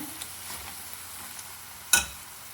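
A spinach dal kichdi mixture fries quietly in a pan with a soft steady sizzle, then one sharp scrape of the spoon as it is stirred.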